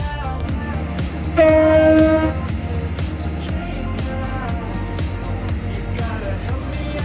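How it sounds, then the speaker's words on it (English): A Roblox Stepford County Railway train rolls into a platform, a rumbling engine and rail drone with a loud two-tone horn blast around the second mark, then steady running clatter, near and loud. "The train now approaching platform 8 terminates here."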